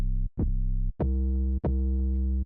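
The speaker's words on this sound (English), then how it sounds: "so this 808 on its own sounds like this" Unprocessed 808 bass by itself: four clean, deep booming notes, each with a sharp attack and a long sustain that cuts off before the next hit, loud and alone.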